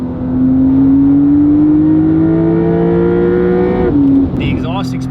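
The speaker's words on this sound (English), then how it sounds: "The exhaust experience, like off throttle, you get those aggressive pops and cracks." Porsche 911 Dakar with titanium sport exhaust revs loud and close, engine note climbing steadily for several seconds before a sudden drop and a short burst near the end.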